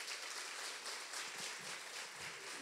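Soft, distant applause from an audience at a children's song festival gala in Łasin, a steady even patter of clapping with no voices.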